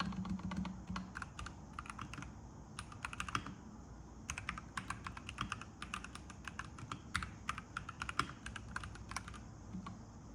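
Typing on a mechanical keyboard, close and clear: rapid, clicky keystrokes in uneven bursts with brief pauses, carrying steadily over a soft background hum and alone without speech.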